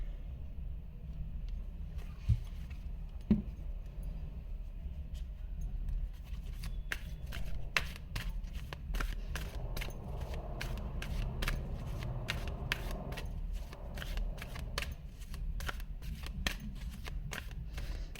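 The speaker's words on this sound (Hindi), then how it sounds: "मैं आप लोगों के कार्ड शफल कर रही हूँ।" Tarot cards being shuffled by hand, a long run of soft riffling and sliding card flicks that grows busier midway, close but quiet over a low room hum.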